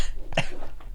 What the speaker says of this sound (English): I'm just going to be coughing for the rest of the episode